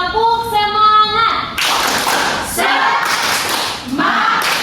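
A classroom of students claps a rhythmic spirit cheer during a university microteaching competition in Indonesia, with loud group clapping and voices chanting alongside, following an earlier stretch of a teacher's voice.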